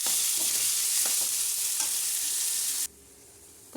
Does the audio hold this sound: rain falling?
no